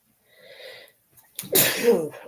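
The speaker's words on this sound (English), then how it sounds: "I wasn't expecting to sneeze at all." A faint breathy inhale builds briefly, then a single sharp, loud sneeze bursts out close by.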